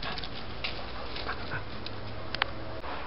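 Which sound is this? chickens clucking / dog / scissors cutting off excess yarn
dog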